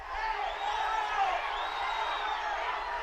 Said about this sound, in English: I think the crowd is calling for a handball